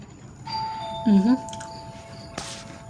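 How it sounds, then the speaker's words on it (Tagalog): A doorbell chimes with bright ringing tones, fairly close, over steady background hiss, while a voice talks nearby. "may nag-doorbell guys."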